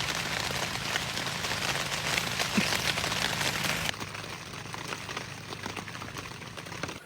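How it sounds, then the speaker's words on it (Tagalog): Rain patters steadily on a taut tent roof overhead, a dense crackling wash that drops slightly in intensity partway through. "Bumuhos ang ulan."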